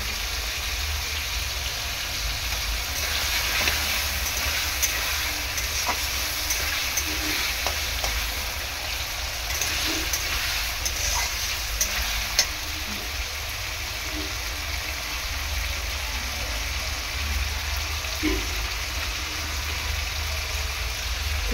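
Bay leaves and dried chillies sizzle in hot oil for a Bengali vegetarian ghugni, a steady broad frying hiss running throughout with a few faint stir clicks, no talk.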